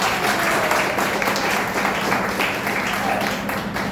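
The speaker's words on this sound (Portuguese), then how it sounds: "Vamos aplaudir Jesus pela vida do Jonathan." A church congregation breaks into steady, dense applause that fills the room evenly from start to finish, with a faint voice underneath.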